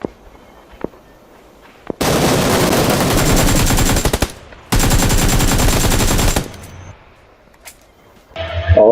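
Automatic gunfire from the battle royale game PUBG Lite rings out in two long, loud, rapid bursts, each lasting about two seconds, with short quiet gaps and a few single shots between them.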